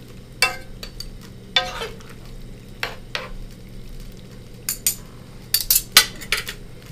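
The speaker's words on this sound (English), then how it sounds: "You have to stir the pasta. You gotta make sure the sauce is all over the penne pasta" Penne pasta tossed through sauce in a pan at a restaurant, with repeated clinks and scrapes of utensil against metal at an irregular pace, close and fairly loud, no talking.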